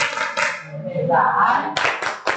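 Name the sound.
class performing a rhythmic clapping chant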